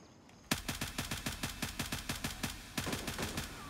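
Rapid bursts of gunfire from a Mark 18 rifle in the military shooter Gray Zone Warfare, a steady run of about fifteen sharp, evenly spaced shots after a brief quiet start, loud and close with no talking.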